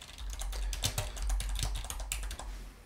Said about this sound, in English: Then just click to the side of it and carry on typing.